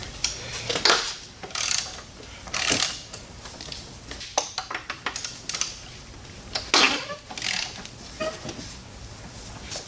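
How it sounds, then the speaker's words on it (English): Wrench work on the motor mount bolts of a 2000-2004 Ford Focus Zetec, close metallic clanks, ratcheting clicks and creaks in irregular bursts, no speech. "I got the two main motor mount bolts off."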